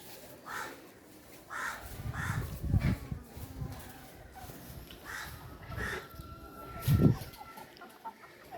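Several chickens cluck and call in short bursts outdoors, one louder squawk rising near the end over steady background noise.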